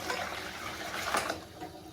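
Tap water pours into a bucket while cider-making equipment is prepared, a short continuous rushing splash at moderate level.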